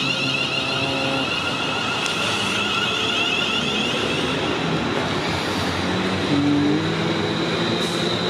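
A London Northwestern Railway Class 350 electric train, eight carriages, pulls away from the platform at Milton Keynes Central bound for London Euston, its loud steady rumble and rising motor whine continuous and close throughout.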